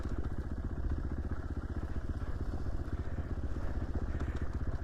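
A 450 dirt bike rides Idaho single track at around 5,000 feet, its engine a close, loud, rapid pulsing thrum that holds steady throughout.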